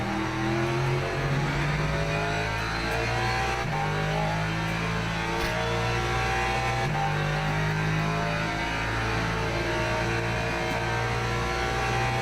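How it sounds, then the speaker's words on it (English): Loud, continuous engine note from a Lexus GT3 car racing at Interlagos in Le Mans Ultimate, rising and falling through several gear changes and revving phases with no voices over it. "That's a grunty car, that Lexus, isn't it?"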